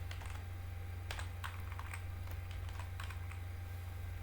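C code is typed on a computer keyboard: quiet, irregular key clicks in short bursts over a steady low electrical hum, with no talk.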